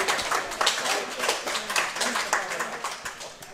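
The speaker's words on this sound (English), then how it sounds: "The crowd goes wild." A crowd at a women's bowls grand final claps, a lively patter of many hands with uneven bursts, moderately loud, with a few voices mixed in.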